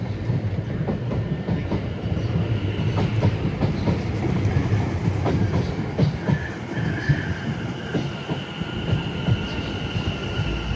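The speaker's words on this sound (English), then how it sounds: "And another South Western Railway arterial over there." A South Western Railway Arterio electric train passes at Clapham Junction, a steady rolling roar with rhythmic clickety-clack of wheels over rail joints and a faint wheel squeal, moderately loud and continuous, with no talking.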